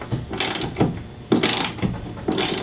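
A ratchet wrench tightens a bolt during a rear-end mod on a 2018 Ford F-150, making loud, close bursts of rapid clicking that come in about four separate strokes with short pauses between them.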